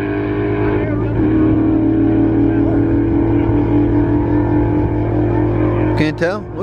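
Turbocharged and procharged drag race cars, including a big-turbo 5.0 and a Camaro, roar loudly in a sustained high-revving pass, with a sharp burst near the end.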